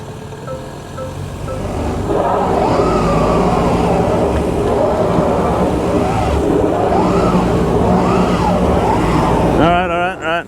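Toyota Grand Highlander Hybrid MAX, 2024, on an off-road hill test with traction control in normal mode, wheels spinning as the drivetrain strains: a loud, steady, close roar and whine holding for several seconds before tapering off at the end.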